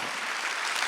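A church congregation applauding during a Sunday worship service: a continuous wash of many hands clapping together, steady and fairly loud for a moment.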